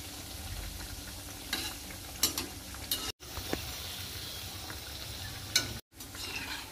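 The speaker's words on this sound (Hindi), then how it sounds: "तो देखिए ये कितना बढ़िया से जो है फ्राई हो रहा है" Sweet corn cutlets fry in hot oil with a close, steady crackling sizzle, broken by a few sharper spatters and two brief dropouts, with no voices.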